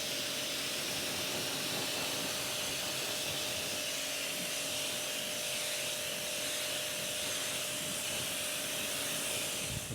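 A pressure washer sprays water steadily over the engine bay of a VW Lupo GTI, a loud unbroken hiss lasting the whole stretch with no talking.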